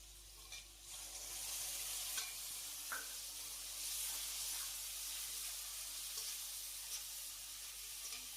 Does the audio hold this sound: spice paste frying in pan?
yes